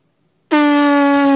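A trumpet player's lips buzz against the mouthpiece: a loud, steady, reedy tone that begins abruptly after a short silence and holds evenly to the end.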